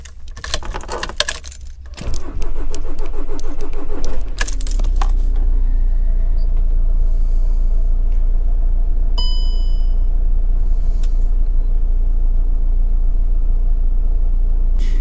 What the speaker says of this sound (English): I'm going to start the van up, take it off the drive